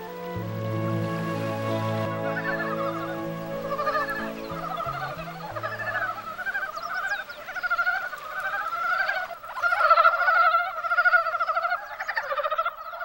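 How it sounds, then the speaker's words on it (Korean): Many male mountain frogs croak together in a continuous chorus in a valley in Songnisan's Hwayang Valley in late February, overlapping calls rising and falling, with a low droning tone in the background early on. "산개구리의 울음소리가 계곡을 울린다."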